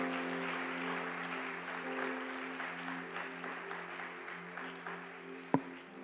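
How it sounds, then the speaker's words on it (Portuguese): A church congregation applauds during a service, the sustained clapping moderately distant and fairly soft, with one sharp click near the end. "Quem crê, dá um aplauso ao Todo-Poderoso."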